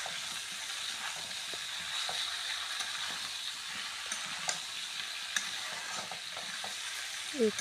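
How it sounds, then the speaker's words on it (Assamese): Ground black pepper, cumin, coriander, cloves, cardamom and cinnamon fry in a pan with a continuous soft sizzle, close by, punctuated by occasional light clicks and scrapes from stirring. "এইখিনি অলপ ভালকৈ ভাজি ল'ব লাগিব।"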